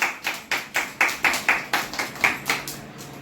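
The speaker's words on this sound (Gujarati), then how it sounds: "ચલો બધાય ધ્રુવને તાળી પાડી દો." Young children in an anganwadi classroom clapping together in a steady rhythmic beat, about a dozen evenly spaced group claps, close and fairly loud.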